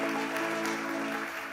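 A summit stage audience applauds a speaker, Diego, before his pitch: a soft, steady wash of many hands clapping over a low electrical hum, continuous and without speech.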